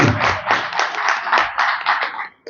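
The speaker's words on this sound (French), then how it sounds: "On peut applaudir Maman Chantal." A conference audience on entrepreneurship in the Gabonese diaspora claps in a short run of distinct, fairly close hand-clap bursts, uneven in rhythm, with little talk beneath.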